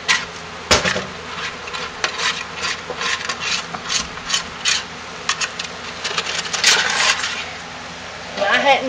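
A utensil scrapes down the sides of a large cooker of thick homemade lye soap being rebatched, producing close, irregular rasping strokes and occasional sharp knocks.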